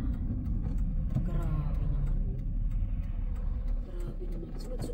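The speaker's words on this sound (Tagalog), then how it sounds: "Sunod-sunod naman yung sasakyan." Cars pass one after another on a road in very cold weather, a continuous rumbling wash of engine and tire noise rising and easing, fairly close and loud.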